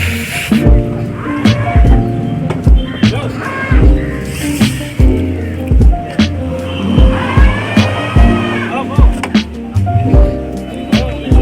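Dirt bike engines at a motocross race in Northeast India, a loud continuous mix of revving, rising and falling engine tones with crowd noise and voices throughout.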